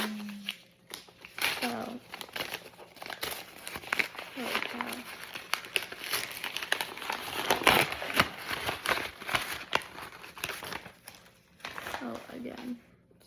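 Wrapped books being unwrapped, paper crinkling and crackling in loud bursts throughout with brief tearing, while someone talks intermittently over it.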